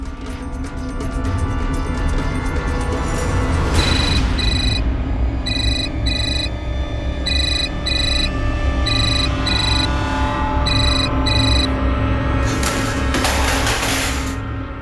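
A telephone rings during a tense domestic scene in a Hindi crime drama, its electronic ringtone sounding as repeated short trilling bursts over a steady backing score, with no one talking.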